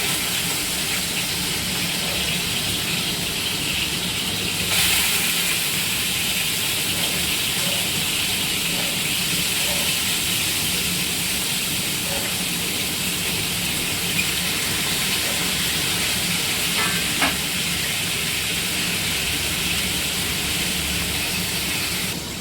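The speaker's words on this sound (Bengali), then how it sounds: "তেলটা হয়ে গেছে, এবার মাছগুলো আমি ছেড়ে দেবো" Pieces of katla fish fry in hot oil, giving a steady, even sizzling hiss that continues throughout with no one talking.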